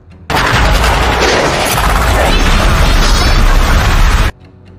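A bomb blows apart a horde of zombies in a film: a sudden, very loud blast that roars on as a dense, sustained rumble for about four seconds, then cuts off abruptly.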